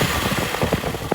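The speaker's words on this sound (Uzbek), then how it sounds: "Azizlar, 2022 Kia Bongo motor qanaqa ishlaydi?" Steady idle of a 2022 Kia Bongo truck engine, heard up close as a continuous low rumble with fine rhythmic pulsing and no voices.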